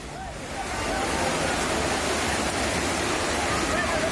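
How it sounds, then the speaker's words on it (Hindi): Strong floodwater rushing during heavy rain, a steady, dense roar that swells in over the first second and then holds loud and continuous. "पानी का बहाव अगर आप देखेंगे तो अंदाजा लगा सकते हैं कितना तेज ये बहाव।"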